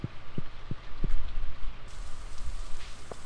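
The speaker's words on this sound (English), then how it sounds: "Is it like the game wants to let me know that it's raining?" Rain sound effect from the farming video game Stardew Valley, a soft steady patter with a few distinct low drip-like taps early on and no talking.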